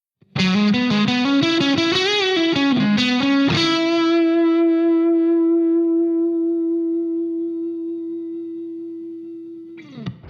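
A clean electric guitar plays a quick run of notes on a single-coil neck pickup, then one note rings out and sustains for several seconds, fading slowly before a faint noise ends it.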